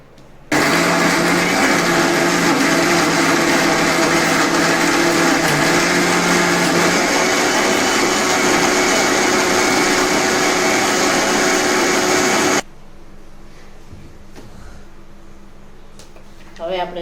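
Electric blender crushing chikoo with milk for a chocolate shake: a loud, steady high whir running for about twelve seconds, then cutting off abruptly to a quiet room with faint handling sounds.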